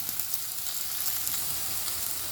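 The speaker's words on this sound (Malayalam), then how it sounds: "ഹൈ ഫ്ലെയിമിൽ വെച്ച് തന്നെ ഒന്ന് മൂപ്പിക്കാം" Onions sizzling in a pan over a high flame on a small burner, a steady, loud, close crackling hiss that runs without a break.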